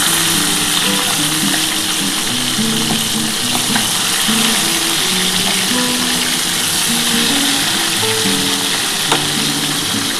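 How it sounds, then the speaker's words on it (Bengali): Pieces of tilapia fish fry in hot oil in a pan, giving a loud, continuous close-up sizzle with crackling pops that holds steady for about ten seconds, with no voices. "একটু লাল করে ভাজলে কিন্তু মাছটা খেতে ভালো লাগবে"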